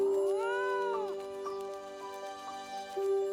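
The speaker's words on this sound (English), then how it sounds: "Later, Alice spotted a grinning cat ready to pounce on a rabbit." Cat meowing in a children's story, a loud, close, drawn-out meow that rises then falls, followed by a few shorter, softer mews and a sustained tone.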